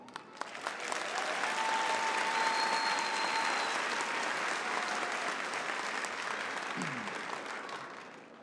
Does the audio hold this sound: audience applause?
yes